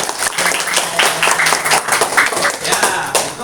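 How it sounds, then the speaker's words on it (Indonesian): A classroom breaks into a burst of clapping, many hands applauding together at close range with scattered voices underneath. "Kasih tepuk tangan buat teman."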